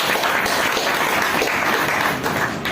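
A crowd claps loudly and continuously, a dense wash of applause with no pauses.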